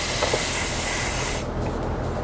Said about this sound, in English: Now we're going to get a little bit of a spray because I've got refrigerant in my gauge